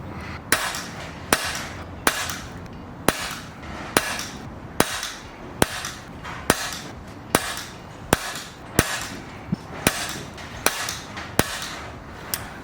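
Air rifle firing H&N pellets at a target, about fourteen sharp, evenly spaced shots roughly a second apart, each a crisp close crack with a short decay over a steady room background.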